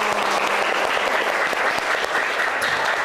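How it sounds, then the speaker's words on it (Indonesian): A class of students in a mathematics lesson breaks into brief, lively applause, with many hands clapping at once in a dense, even burst that fills the room throughout. "Tepuk tangan untuk kita semua."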